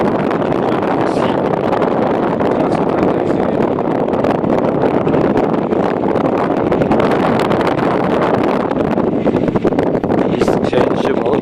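A tractor is driven on its first outing, giving a loud, steady engine rumble that runs unbroken throughout, mixed with heavy wind buffeting on the microphone.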